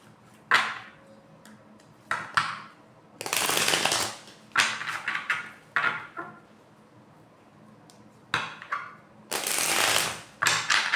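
A deck of oracle cards is shuffled close by in loud riffling bursts separated by brief quiet gaps and small taps and handling sounds.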